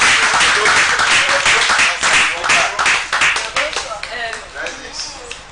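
Clapping for a chef during a cooking contest livestream, several sharp claps repeated rapidly and close by, mixed with voices talking throughout and fading toward the end.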